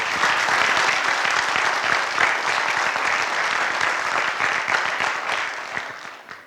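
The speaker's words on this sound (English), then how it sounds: "Let's give our alumni group another round of applause" Sustained applause from an audience at an FFA chapter farewell banquet, honoring an alumni group; a broad, steady wash of clapping that gradually thins and fades near the end.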